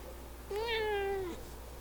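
A single cat meows once, a clear rising-then-falling cry of under a second, heard fairly close against quiet room background with no talking.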